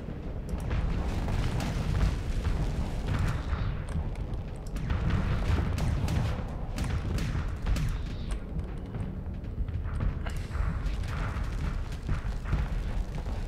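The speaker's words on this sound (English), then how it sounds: "I need to launch those torpedoes under a screen" Torpedoes launched from a spaceship in the space combat game Starsector, a continuous rumbling barrage of booms and bursts with sharp crackling hits throughout, loud and dense with no speech.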